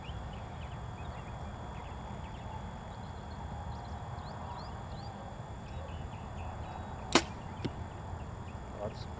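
A single arrow fletched with easy vanes and fitted with a green lighted nock is shot from a bow at 100 yards outdoors, giving one sharp, loud release snap followed by faint later ticks, with light birdsong in the background.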